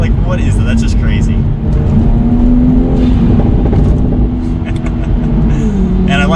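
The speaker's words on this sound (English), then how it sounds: "those pops sound very proper now" Loud, steady engine drone from a Toyota Supra A90 with an AWE aftermarket exhaust, with scattered sharp exhaust pops and crackles breaking over the rumble.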